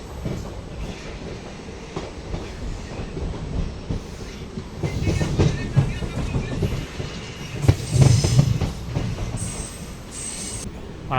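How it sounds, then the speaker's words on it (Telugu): A hydrogen-powered passenger train on the Sonipat to Jind line pulls out of a station with rumbling, clattering wheels and a few squeals, heard from inside the carriage and growing louder as it gathers pace. "వచ్చింది బయలుదేరుతుంది మన ట్రైను."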